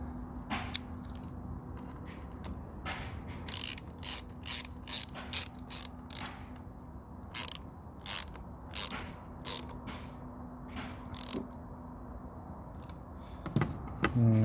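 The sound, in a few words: reconnecting the car battery terminal, Hyundai i30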